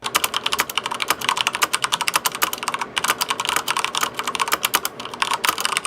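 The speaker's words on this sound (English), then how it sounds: "my Corsair Strafe mechanical keyboard. It's got Cherry MX Red switches. Just take a listen to how these sound." Rapid, steady typing on a Corsair Strafe mechanical keyboard with Cherry MX Red switches, close up, with dense clicky keystrokes in quick bursts and no talking.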